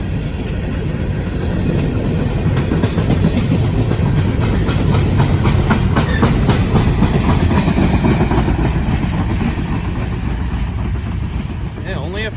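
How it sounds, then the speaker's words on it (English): A CSX freight train of coke hopper cars rolls steadily past at close range, a loud continuous rumble with clickety-clack wheel rhythm lasting throughout. "Here comes all the coke hoppers."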